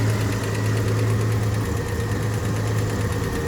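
A budget hot rod engine with a carburetor problem idles close and loud in a steady low rumble, with a faint knocking pulse and no voices over it.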